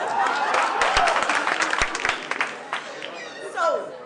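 An audience at a lecture on the Pan-African Renaissance claps with sharp, scattered hand claps over a continuous crowd wash. The applause fades under a speaking voice toward the end.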